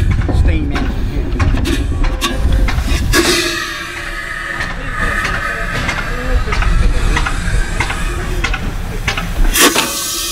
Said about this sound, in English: Now, this is a reversing steam engine here.